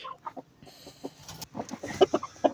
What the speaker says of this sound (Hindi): यह मुर्गा है